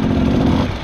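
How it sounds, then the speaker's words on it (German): An enduro motorcycle engine at the Erzbergrodeo hard enduro race runs loud and close as a dense, rough, continuous drone that fades slightly toward the end. "Das Motorrad ging eben schon kaum noch an"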